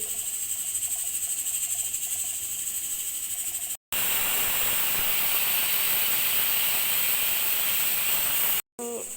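A pressure cooker, cooking tender raw jackfruit, lets out its second whistle: a loud, sustained hissing whistle that cuts off briefly, then returns stronger and steadier before stopping again.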